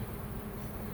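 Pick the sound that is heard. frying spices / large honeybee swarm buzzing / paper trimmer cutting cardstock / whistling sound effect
large honeybee swarm buzzing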